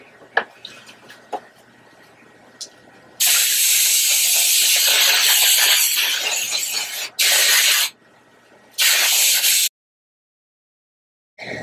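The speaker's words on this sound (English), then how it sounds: "I keep my hair flipped over and just spray everything." Several hissing bursts of hairspray sprayed onto curly hair, one long blast followed by two shorter ones, close and loud, with quiet handling noises between.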